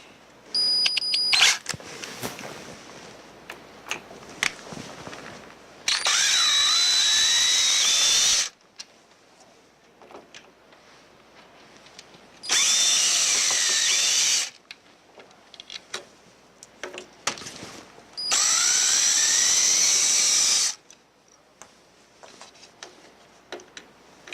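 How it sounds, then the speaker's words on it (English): A power drill backs out the four corner screws of a ProMax40 motor control box in three sustained whirring bursts of a few seconds each, loud and close, with small clicks and handling noises between them and no talk. "now we just need to remove the 4 screws located on the outside of the control box at the 4 corners"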